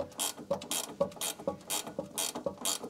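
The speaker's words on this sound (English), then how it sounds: "That's some good tightening up there." A ratchet wrench tightens an anti-roll bar bolt on a Volvo 240, clicking in a steady run of close, even strokes with no talk.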